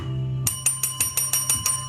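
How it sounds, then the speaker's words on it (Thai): A bell is pressed repeatedly, giving about eight quick, bright, evenly spaced rings close by after a low steady hum. "อันนี้กระดิ่ง ว้าวดูกระดิ่ง"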